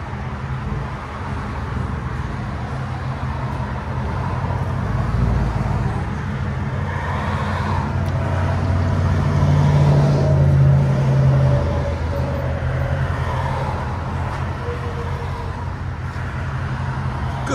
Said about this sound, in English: Ford F-150 DYNOMAX race bullet